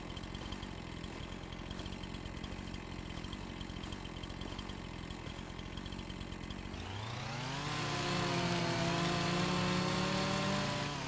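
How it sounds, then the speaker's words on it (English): A virtual chainsaw in the farming game Farming Simulator 25 idles with a steady buzzing rattle, then revs up into a loud, rising whine for the last few seconds, with no voices over it. "I see you can't run with the chainsaw."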